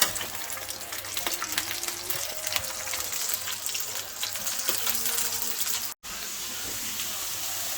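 Lamb shanks browning in a pan, a steady wet crackle and hiss close by with occasional light tapping and shifting, one brief dropout near the end, no one talking.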